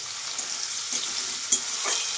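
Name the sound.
frying spices with tomato and chili in oil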